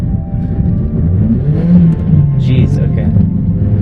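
A Toyota Corolla Quest with a sluggish automatic transmission accelerates, its steady low engine drone and road rumble running throughout from inside the cabin, with a voice talking over it.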